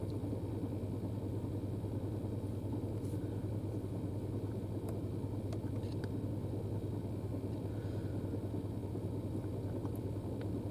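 A truck engine rumbles as it drives past on a rural trail, a steady low drone that holds close and even throughout with no talking.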